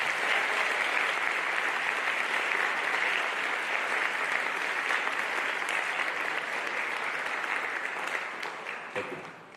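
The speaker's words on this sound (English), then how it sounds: "Give a big round of applause to our Hawks All-State athletes." A school awards ceremony audience gives a steady, full round of applause for its Hawks All-State athletes, a broad even wash of clapping that holds for several seconds before starting to thin out.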